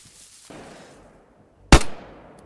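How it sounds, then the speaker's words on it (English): A single loud, close gunshot cracks out mid-clip over faint ambient noise in the survival video game DayZ, its echo tailing off for a moment afterward. "they're all shooting at someone at the actual drop"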